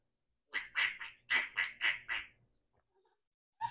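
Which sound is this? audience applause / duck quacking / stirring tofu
duck quacking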